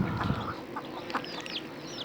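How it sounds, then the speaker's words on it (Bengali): Chickens cluck near a village house where ducks and hens are raised, short soft calls spread across a busy, mid-level farmyard background. "এই যে আবার আরেকটা মুরগি আসছে।"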